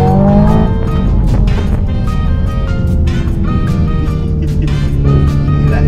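Family car with a 3-meter wheelbase accelerating hard, loud engine roar with tires squealing throughout, a steady dense sweep of sound close up.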